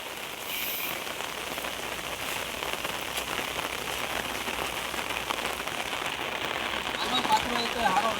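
Steady, even rain patters on a surface throughout, a dense hiss of drops that stays constant and fairly close.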